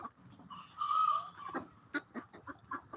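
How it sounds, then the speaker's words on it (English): Tulip, a farm rooster, gives a brief crow-like call followed by a run of soft, close clucks, with no talk. "And there is Tulip, our rooster, who we started the YouTube channel with."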